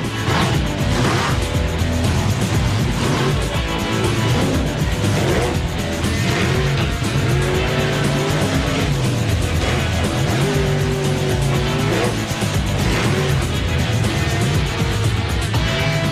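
The Bigfoot monster truck engine roars loud and continuous through its freestyle run, its pitch rising and falling as the throttle opens and closes, with crowd noise blended underneath.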